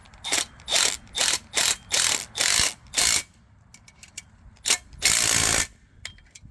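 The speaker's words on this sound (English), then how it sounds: "I'm torquing them down to 2 Ugga-Duggas" A ratchet wrench tightens 13 mm bolt heads on Equipment Defender trailer racks. Seven loud, close ratcheting strokes come in a steady rhythm, then a pause, then a few lighter clicks and one long final burst.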